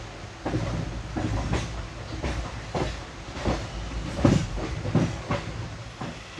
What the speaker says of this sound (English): Now joining the main line towards Bangalore.